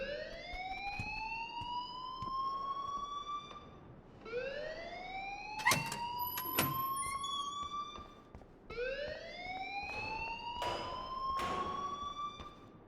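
A rising electronic alarm sweeps upward three times in a slow repeating cycle inside the Life is Strange game, steady and fairly prominent with a few sharp clicks between sweeps and no talk.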